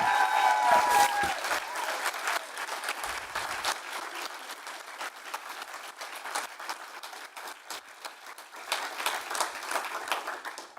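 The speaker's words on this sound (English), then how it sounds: "Let's have another round of applause for our debaters." Sustained applause from a large audience, steady clapping filling the room for about ten seconds with no voices over it.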